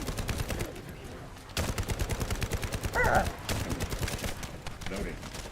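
Rapid automatic gunfire rattles in long bursts while shooting in the sci-fi shooter The First Descendant, close and steady, briefly pausing before resuming, with voices talking over it.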